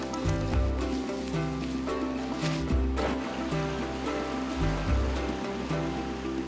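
A river flowing in the Rocky Mountains of Canada rushes with a steady, loud broadband roar of churning water that stays constant and close throughout, with no voices.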